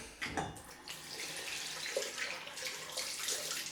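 Water runs from a bathroom tap for a cold rinse after a head shave, a steady close splashing hiss with small bursts as hands break the stream.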